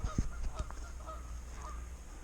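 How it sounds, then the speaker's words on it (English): Geese honk a few times, scattered calls near the start and middle, with a couple of low thumps, over faint steady background noise. "Do you guys speak goose?"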